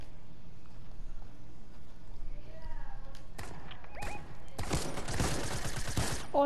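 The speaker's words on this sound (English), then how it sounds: "I hear gunshots" Gunfire in an online shooter video game: a few scattered shots, then a loud dense burst of rapid fire near the end, over quiet game ambience.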